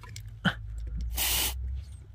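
Lubricant sprayed around the clutch pedal linkage of a Honda Accord CU3: one short, close, hissing aerosol burst lasting under half a second, preceded by a faint knock.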